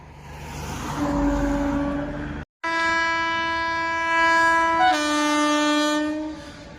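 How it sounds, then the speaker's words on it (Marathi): The Hutatma Express, a Solapur–Pune intercity train, rumbles in close by with a loud, sustained horn that breaks off briefly and then resumes, its tone shifting near the end. "मित्रांनो हुतात्मा एक्सप्रेस आलेली आहे इंटरसिटी सोलापूर पुणे"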